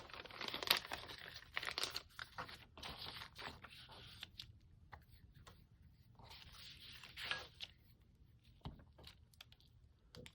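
Scraps of paper being rummaged through by hand, with soft crinkling, rustling and tearing-like crackles in irregular bursts, close and quiet with no talking.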